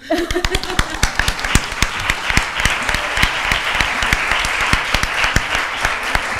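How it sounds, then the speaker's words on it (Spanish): An audience at a cat-welfare conference breaks into applause, with sharp individual claps at first thickening into a full round, and a little laughter and a voice briefly heard early on. "nos hemos aplaudido"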